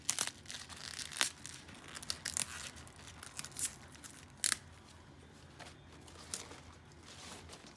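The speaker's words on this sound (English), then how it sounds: "grab the stem, the leaves, and just pull the leaves off the stem" Collard green leaves being pulled by hand off their stems, giving a run of sharp tearing and crinkling snaps, some louder and closer, with quiet rustling in between and no talking.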